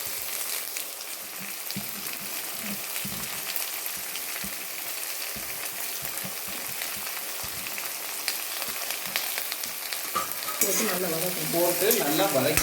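Onions sautéing in a pan for a country chicken curry, a continuous rain-like sizzle with stirring scrapes, close and steady, swelling louder near the end without any talking.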